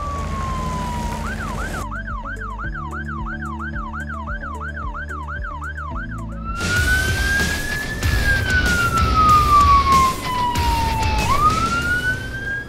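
An emergency vehicle siren from a driving video game wails in a fast yelp, then shifts to a slow rising and falling tone as engine noise swells, loud and continuous.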